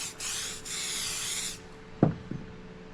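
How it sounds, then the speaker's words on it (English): A steady hiss of an aerosol can spraying glue accelerator for about a second and a half, with short pauses, followed by a couple of light knocks. "Go ahead and spray that with accelerator."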